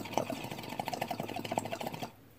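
Water bubbling through the diffusion of a Waxmaid Magneto silicone bong: a rapid, steady percolating rattle of small bubbles, close and fairly loud, stopping abruptly near the end.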